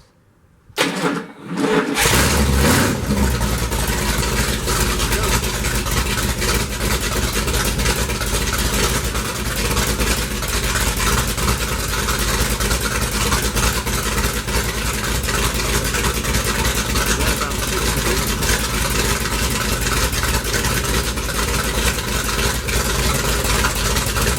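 A Mopar car engine with a lazy starter cranks briefly, then catches and runs loud and close with a rough, steady rumble and slight revving throughout; no talking.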